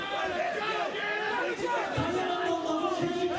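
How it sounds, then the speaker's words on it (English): A dense arena crowd at Osaka Castle Hall roars and chants steadily in encouragement during a PRIDE FC mixed martial arts fight, loud and continuous throughout, with a commentator's voice over it. "The crowd here at Osaka Castle Hall encouraging both fighters"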